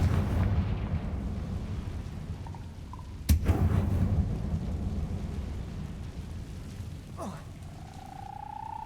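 A Confringo spell goes off in Hogwarts Legacy with a sudden sharp blast and a rumbling tail. A smaller burst and a whooshing effect follow later over a low background hum, all fairly faint.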